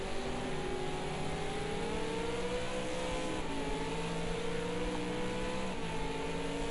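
A V8 Supercar race car engine holds a steady, loud drone at Ruapuna Park racetrack, its pitch rising and easing slightly as it revs through a long slide, with no voices over it.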